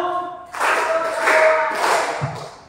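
An audience of women at a stand-up comedy show for Indonesia's 17 August Independence Day celebration claps on cue, a loud burst of mass clapping lasting about two seconds before fading.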